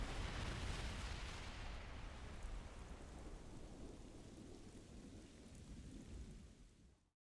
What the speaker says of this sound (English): Just thunder, innit?